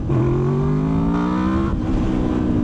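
A Honda motorcycle engine revs hard as its VTEC engages, a loud, close, rising mechanical whine that climbs steadily in pitch, then tapers off.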